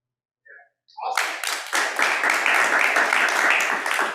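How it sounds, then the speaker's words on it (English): Audience applause at a leadership seminar, starting after a brief voice and swelling into a sustained, dense crowd clapping that stays loud and even to the end. "give yourself one last clap"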